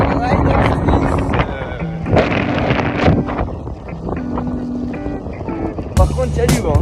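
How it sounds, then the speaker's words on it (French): Wind buffets a microphone outdoors in Switzerland with a loud, rumbling low roar under a person talking throughout, with some sharp handling bumps near the end. "Par contre, il y a du vent."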